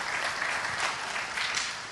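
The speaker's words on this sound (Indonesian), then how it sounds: "Tepuk tangan buat multimedianya." Church congregation applauding, steady continuous clapping from many people with no pauses.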